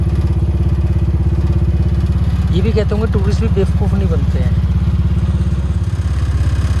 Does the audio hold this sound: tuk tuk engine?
yes